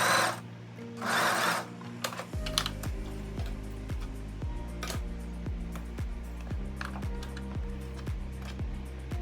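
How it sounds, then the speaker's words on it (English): A sewing machine runs a row of gathering stitches at its longest stitch length on summer dress fabric, a steady mechanical chatter of evenly spaced stitch clicks after a brief whir at the start, alone and close. "we're just going to do a row of stitching on the longest stitch length"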